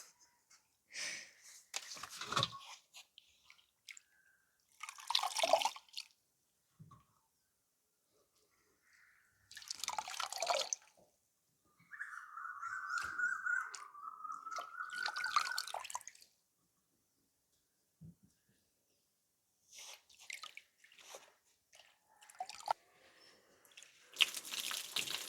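Water trickling and dripping while spinach leaves from a home garden are washed by hand, heard as intermittent splashy bursts and drips separated by quiet gaps, close by, with no talk.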